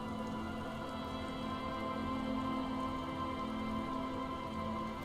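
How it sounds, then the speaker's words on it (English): Rain falls in the video game Disco Elysium, a soft, even wash of drops over a steady low tonal drone, faint and continuous with no voices. "She looks at the rain streaming down the yellow belly of the boat."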